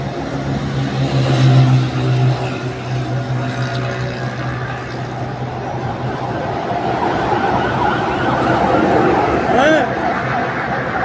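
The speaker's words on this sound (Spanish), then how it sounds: "Con todo, una ambulancia, qué horror." An ambulance siren wails and sweeps past outside amid traffic noise, rising and falling under continuous close talk in Spanish in a kitchen.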